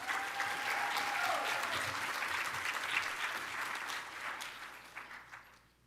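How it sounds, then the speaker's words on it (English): A crowd applauds steadily as performer Musique Raive is welcomed onstage at the OMSA Lavender Graduation Ceremony; the dense clapping holds for several seconds and then tapers off. "Please join me in welcoming Musique Raive to the stage with a round of applause."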